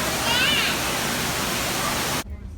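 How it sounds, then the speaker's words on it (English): River water in Tennessee, near Chattanooga, rushes in a dense, steady roar up close, then cuts off abruptly near the end. "Observe the majesty of the great Tennessee water as it flows through the nature of whatever the river is called."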